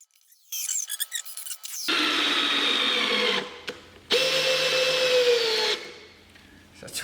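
A cordless Makita drill running on a cheap replacement battery drives screws in two long whirring bursts, close and loud, with brief clicks and handling noise between them.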